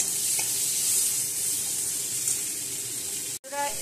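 Chopped onion dropped into hot oil after panch phoron tempering, a loud steady hiss and sizzle close by, cut off abruptly near the end.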